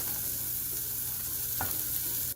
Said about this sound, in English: add one small chopped onion and fry it